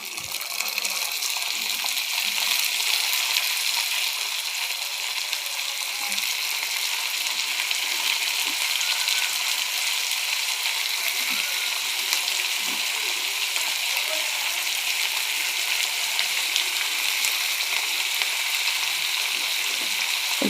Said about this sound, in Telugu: ఈ వాటర్లో నుంచి తీసి మనం ఫ్రైలో వేసుకుందాం